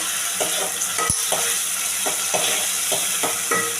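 Ground spice paste for a Marathi-style pomfret fish curry cooks in a pan, giving a steady soft sizzle broken by repeated scraping stirs of a spoon, close and moderately loud, with one sharp clink partway through and no talking.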